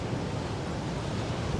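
A strong nor'easter batters the coast, with a steady roaring wind blasting the microphone over a dense rush of heavy surf, loud and unbroken throughout.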